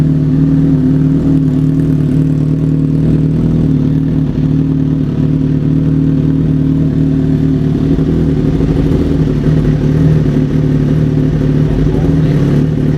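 A motorcycle engine, freshly remapped and no longer surging, runs close by at a steady, loud idle with a rough mechanical rumble and occasional small swells in revs.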